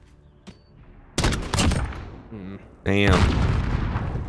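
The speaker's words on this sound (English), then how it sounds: "I saw a nade hit." A grenade blast and rattling bursts of gunfire erupt loudly in a Modern Warfare multiplayer Gun Fight match, with a short spoken exclamation over the game sound.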